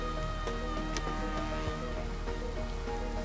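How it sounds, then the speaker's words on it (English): Rain falls in the video game Endzone A World Apart, a steady patter of drops under a constant low game hum and faint tonal music, with occasional soft ticks and no talking. "Oh, sure, it rains now"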